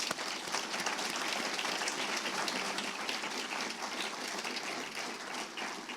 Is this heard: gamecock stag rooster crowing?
no